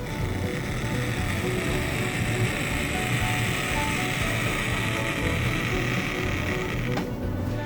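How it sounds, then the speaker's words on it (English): A model belt-drive turntable runs noisily, a steady mechanical whirring with a rough, rattling grind and faint tonal hum, continuous at an even level with no voices. "they both have the same issues with juddery starts and very noisy running"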